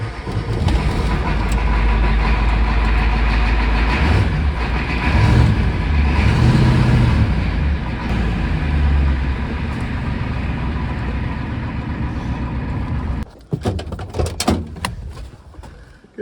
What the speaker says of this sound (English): I'll come up here to get the sander truck out of the shop.